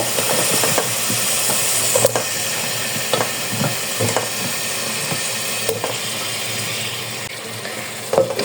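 Cubed potatoes frying in a thick spice masala for aloo choliya (green chickpea) sabzi, a steady sizzle with scattered clicks and scrapes of stirring, close and fairly loud, no talking.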